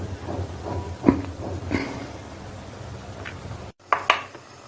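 A spoon scrapes and clinks against a pot of milk being stirred for Multani sohan halwa, several sharp metallic taps over a low steady background hiss, with a louder clatter near the end.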